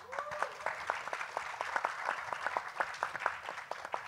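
Modest audience applause at a literary event, quiet and somewhat distant, with fairly even clapping alongside a faint tonal sound early on.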